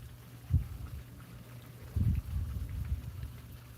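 Outdoor breeze gusting beside a campfire at a koi farm, low rumbling wind buffets swelling and fading in a few bursts across the clip, moderately loud with no talk.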